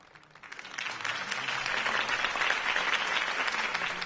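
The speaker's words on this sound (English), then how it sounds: "If only Mr. Wayne, my campaign's largest backer, could have heard that applause" Crowd applause at a political campaign rally in Batman: The Telltale Series, swelling quickly from quiet into sustained, dense clapping that holds steady to the end.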